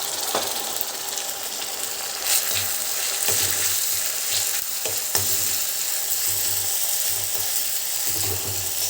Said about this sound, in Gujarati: હવે એને પણ આપણે આ થોડીક વાર એને સાંતળવાનું છે